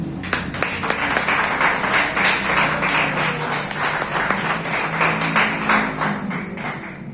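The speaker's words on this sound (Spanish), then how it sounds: "Un buen aplauso al Señor." A church congregation claps together in steady, sustained applause that fills the room for several seconds.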